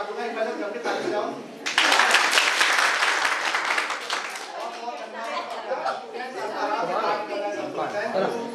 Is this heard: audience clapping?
yes